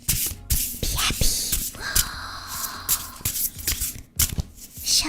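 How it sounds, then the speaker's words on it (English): A new tarot card deck being shuffled at close range, with repeated papery riffling bursts and soft slaps in an uneven rhythm, fairly quiet and intimate, with no talking over it. "Shuffling sounds."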